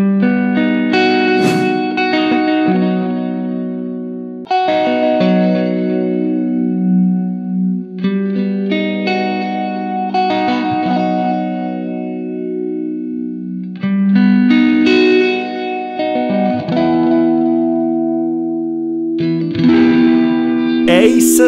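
An electric guitar plays arpeggiated chords through a Walrus Lillian phaser pedal's swirling, sweeping modulation with reverb, loud and continuous, phrases repeating in bursts over about twenty seconds.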